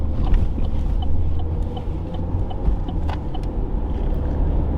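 Car interior noise while driving, a steady low engine and road rumble with faint rattles and clicks throughout.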